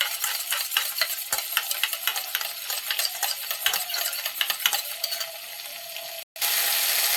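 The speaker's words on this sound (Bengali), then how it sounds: "টক দই 2 চামচ নেব, ভালোভাবে ফেটিয়ে মশলার মধ্যে দিয়ে দেবো" Sour yogurt is whisked briskly and stirred into spices for a mung dal and eggplant dish, producing quick, close clicking and scraping strokes in an irregular rhythm, with no speech, before a short cut-out near the end.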